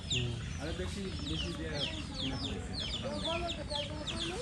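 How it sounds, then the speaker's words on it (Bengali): Silkie chickens cluck and chatter continuously in a noisy group, with rapid overlapping calls and a background murmur of voices. "এটা সিল্কি মুরগি"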